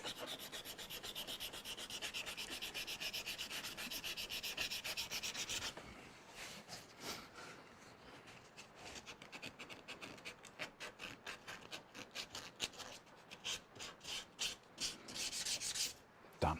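Hand sanding of a wooden part for a lathe cart gives a steady close rasping stroke at first, then shorter, uneven rubbing passes with brief pauses.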